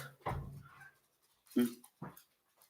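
A dog gives a few short barks and whimpers close by, separated by brief pauses, with no talking.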